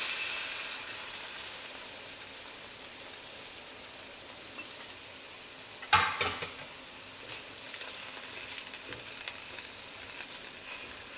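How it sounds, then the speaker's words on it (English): Sauce hits a hot wok of stir-fried chicken and mushrooms with a sudden loud splash and hiss partway through. A steady sizzle runs underneath and flares up again afterward. "We're going to stir our sauce one more time. And we'll put that in here."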